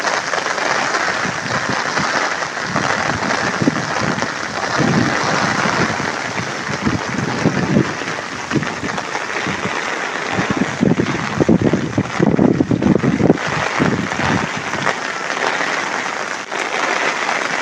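Heavy rain and gusting wind batter a village in Pakistan, a continuous loud wash with rougher bursts and buffeting against the microphone, without any speech.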